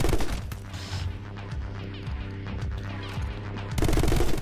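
Video game My Friend Pedro: dense gunfire mixed with booming grenade launcher shots, loud and steady throughout with a heavier burst at the end, no talk over it.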